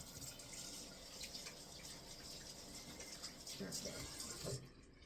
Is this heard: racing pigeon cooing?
no